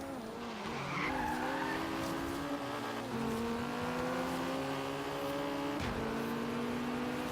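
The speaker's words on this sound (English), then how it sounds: "where you're able to actually slide the car for a good bit" Fiat Abarth sliding and skidding through corners in the racing game Forza Horizon 3, with a sustained tire screech over a steady engine drone that shifts pitch as the car slides, continuous and loud for the whole stretch.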